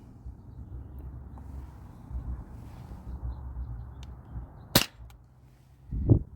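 A Sabre 68 CO2 home defense launcher fires a lightweight 3.6 gram nylon ball, one sharp, loud crack over quiet room noise, followed by a duller thump.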